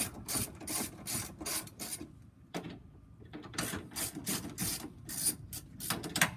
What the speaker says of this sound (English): There's two bolts on the front. It's a 10mm socket. Just gonna loosen those ones up.